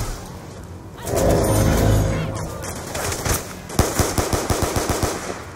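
AK rifle fire in a zombies shooter game, a rapid run of loud, close shots in the last couple of seconds after a swelling rumble of game noise, with some talk mixed in.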